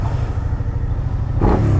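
A Honda CB650R or Suzuki SV650 motorcycle engine running near and loud, a low throbbing idle that jumps into a quick rev just before the end.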